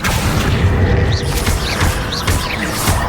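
Confringo fire spell blasts in the Hogwarts Legacy cavern battle: loud, dense bursts of booming explosions and crackling magic, repeating rapidly under heavy combat noise.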